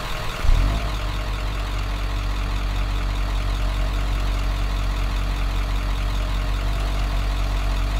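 A repaired car engine in a horror video game starts with a brief low thump, then settles into a steady, loud, low idling rumble that runs alone for the rest of the clip.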